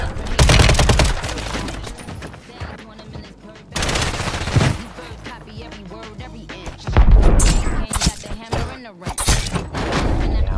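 Bursts of rapid automatic gunfire from the player's weapon in a Rebirth duos video game match, loud and close, coming in several separate volleys.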